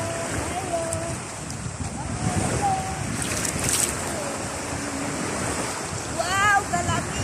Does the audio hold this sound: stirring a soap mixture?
no